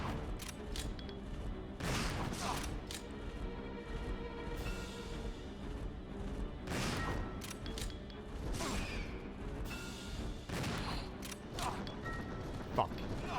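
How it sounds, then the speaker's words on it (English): Shotgun blasts from Resident Evil 0 ring out as several sharp, fairly loud booms at irregular intervals, mixed with mechanical clanks and game noise. "as soon as I empty my shotgun"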